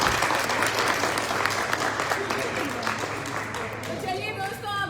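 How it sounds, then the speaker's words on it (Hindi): A crowd at an event applauds loudly with thick, continuous clapping that stays strong for five seconds, easing slightly toward the end, with a low steady hum underneath and faint voices mixed in. "जोरदार तालियां"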